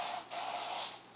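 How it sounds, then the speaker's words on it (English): Cooking spray hisses from an aerosol can onto a foil-lined baking sheet in short, close, steady bursts, the middle burst longest, with a brief pause before a final puff. "I'm going to take a little cooking spray"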